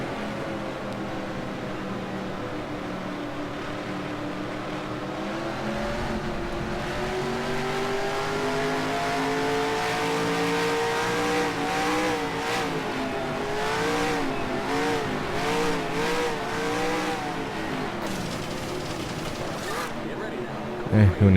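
Race car engine in the NASCAR Racing 2003 video game at Michigan, driver working the clutch: a sustained droning engine whose pitch climbs and sweeps as it revs through the gears, steady and fairly loud, with a short knock at the end.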